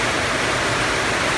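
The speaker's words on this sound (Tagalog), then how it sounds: "Nagbanaw na ang tubig." Floodwater rushes steadily during heavy rain, a dense, unbroken roar of water filling the scene with no pauses.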